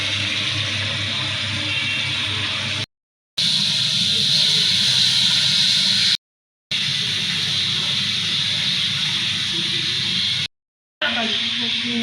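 A home pan curry hisses loudly and steadily on the stove in broad steamy bursts, broken by brief silent gaps, with a voice talking in places.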